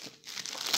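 Plastic packaging crinkles and crackles as a diamond painting accessory package is opened, a short close burst of dense crumpling with a brief lull before it picks up again.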